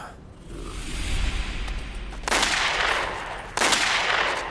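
Two sharp, loud gunshots crack out about a second apart in a TV drama scene, each followed by a short ringing decay over a low rumbling background.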